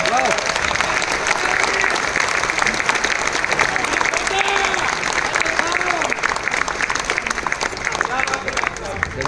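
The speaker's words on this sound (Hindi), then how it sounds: "आप लोग उन लोगों के लिए तालियां बजा सकते हैं" Continuous audience applause in a hall for team members at a health talk, dense steady clapping with some crowd murmur underneath.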